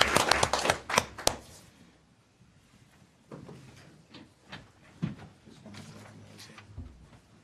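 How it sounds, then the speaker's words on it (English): Council meeting audience gives a brief round of applause that fades out within seconds, followed by faint scattered claps, shuffling and room noise at a low level. "Let's give him a round of applause"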